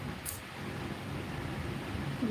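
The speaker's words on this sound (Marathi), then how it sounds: "पाऊस पण आहे" Steady rain falls continuously, a dense hiss of drops with no distinct pattern, fairly close but soft.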